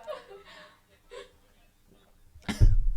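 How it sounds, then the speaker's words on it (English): A single loud, harsh cough bursts out near the end, after some soft breathy chuckles and quiet vocal sounds. "that cough."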